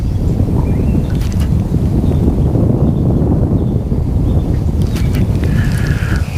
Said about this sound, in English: And there is a little bit of breeze blowing.